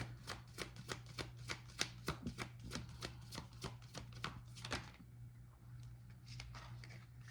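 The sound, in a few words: shuffling oracle cards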